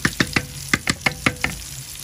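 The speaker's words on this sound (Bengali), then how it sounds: "তাই এই পাশে বেগুন ভাজি হইতে আছে, দিলাম" Eggplant slices for begun bhaji frying in a pan, heard as a quick run of sharp sputtering pops and crackles spaced a fraction of a second apart over a low hiss.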